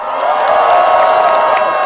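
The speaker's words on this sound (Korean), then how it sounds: "여러분 큰 박수 부탁드립니다" A large outdoor crowd at a Korean political rally on Independence Movement Day cheers and claps continuously. The roar stays loud and steady throughout, with whoops rising above it.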